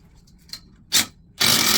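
A hammer drill bites into a basement wall block in two short bursts, a brief grinding blast followed by a louder, sustained rattle after a moment's pause.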